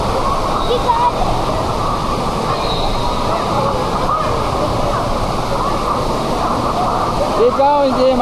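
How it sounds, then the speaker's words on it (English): Water rushes loudly and continuously down a giant fast water slide at an indoor water park, a dense roaring wash with faint echoing shouts and a brief voice near the end. "So we're going down this giant fast water slide."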